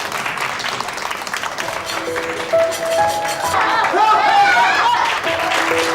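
An audience applauds a child's magic show, steady clapping that swells toward the end with faint voices mixed in.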